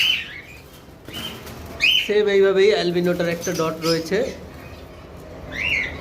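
An albino pet bird held in the hand gives short, bright chirps near the start, near the middle and at the end, with someone talking in between.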